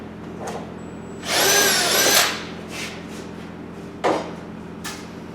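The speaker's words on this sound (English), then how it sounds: "I'm just going to ream out these holes to make sure the bolts go in there nice and easy." A power drill reams out bolt holes in a plastic spacer while building a HayBoss barrel feeder: one loud, high whining burst of about a second, followed by a few faint knocks and taps.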